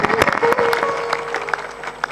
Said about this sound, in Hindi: हाँ, जोर बजाओ, ताली